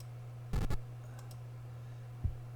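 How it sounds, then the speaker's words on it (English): A computer mouse clicks in quiet surroundings while a box is dragged in MS Excel, two close double clicks followed later by one more faint click, over a low steady electrical hum. "We click on the box and drag it over"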